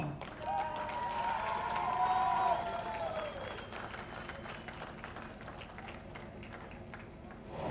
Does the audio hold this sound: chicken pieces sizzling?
no